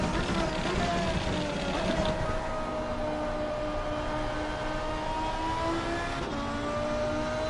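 A race car in the Assetto Corsa driving game roars under full throttle, its engine note climbing, then dropping briefly at an upshift before rising again, loud and continuous.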